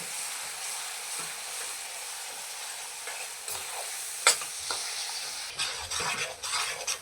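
Coconut barfi mixture stirred steadily in a pan for a traditional Konkani sweet, a soft continuous sizzle broken by scraping strokes and occasional louder spoon knocks toward the end.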